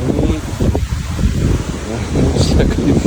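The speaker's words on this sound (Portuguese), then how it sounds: "Olha o vento." Strong, gusty wind roars on a road near Ushuaia, a continuous loud rushing buffeting the microphone, with a faint high whistle late on.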